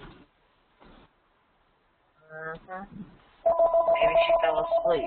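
A telephone rings a few times, a repeating electronic warble that comes in partway through and sits under people talking.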